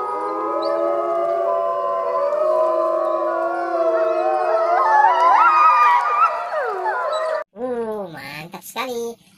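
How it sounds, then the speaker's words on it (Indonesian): A toy or recorded wolf gives a long, wavering howl that rises and falls in pitch, loud and close, then breaks into short yelping cries near the end. "Wih, yang ini serigala"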